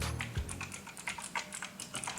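Typing on a Drevo Tryfing V2 mechanical keyboard with clicky blue switches: a quick, uneven run of sharp, close key clicks with no voice over them.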